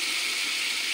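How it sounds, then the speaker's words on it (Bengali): Water splashed into a pan of frying spice paste of ginger, garlic, onion and green chilli for a big-fish kalia, giving a brief, steady, bright sizzling hiss at close range. "একটু জল দিয়ে দেব"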